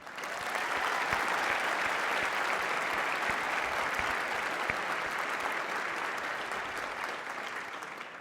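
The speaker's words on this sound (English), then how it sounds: "let's give another round of applause for Governor Kasich" An audience at the University of Delaware applauds Ohio Governor John Kasich with thick, sustained clapping that swells early, stays strong throughout and tapers slightly near the end.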